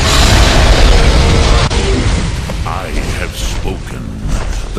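A Greybeard's Thu'um shout in the video game Skyrim, a loud booming blast that rumbles and sustains for several seconds before slowly thinning out.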